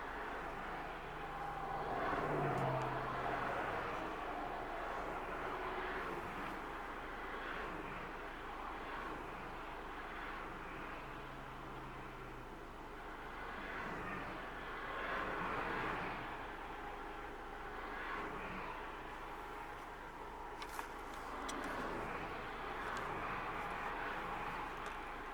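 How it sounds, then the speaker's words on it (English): Steady wash of highway traffic on an interstate, with vehicles merging in from a side street and a big semi truck among them, a continuous broadband rumble that swells and fades as vehicles pass at a moderate distance, with no talk. "You can see some vehicles merging from the street, so they are now joining the interstate."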